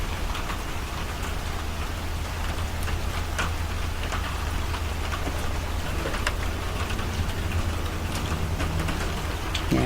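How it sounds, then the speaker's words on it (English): Steady rain falls and patters on surfaces, with scattered drops tapping nearby. The wash of sound is continuous and moderately loud throughout, with no voices. "Can you hear the rain?"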